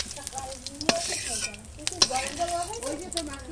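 Pieces of food fry on a wood-fired stove with a steady, close sizzle, broken by a few sharp clinks of a utensil stirring against the pan.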